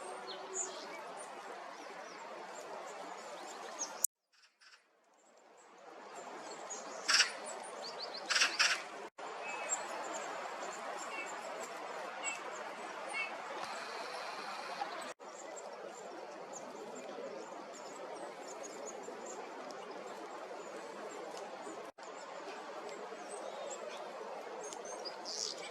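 Birds sing and chirp outdoors on a warm morning, a faint, steady chorus of small calls at a distance, with occasional clicks and a brief quiet gap early on.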